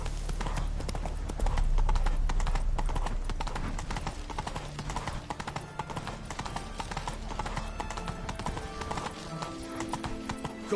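Roach, a horse in The Witcher 3, clip-clops along in a steady walking rhythm, the hoofbeats close and continuous under low game music, with a brief whinny partway through.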